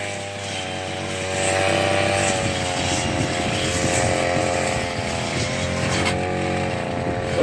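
A petrol grass trimmer engine runs loud and close, rising in pitch as it revs up early on and then holding a rough, steady drone for the rest of the clip.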